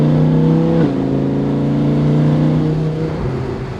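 An Audi R8 V10 Plus Spyder's V10 engine holds a loud, steady, close-up rev with strong harmonic tones, shifts pitch once and then settles before easing off near the end, with no voices.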